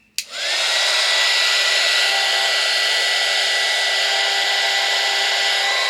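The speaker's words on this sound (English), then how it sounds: "Grab the heat gun." A heat gun blows hot air into a thrifted shoe to loosen sticker glue, switching on with a brief click and then holding a loud, steady, breathy roar that runs the whole time.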